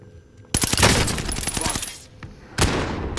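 Sniper fire in a battle royale video game: a loud, sharp report cracks out and rings with a long tail, then a second crack lands near the end, close and dominant over faint background.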